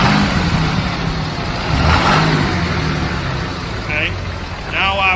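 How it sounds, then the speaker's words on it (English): A 2010 Dodge Ram 5500 bucket truck engine idles and revs in a mid-pitched rumble, with a couple of louder rises, while people talk nearby. "I'll let him rev it up a little bit."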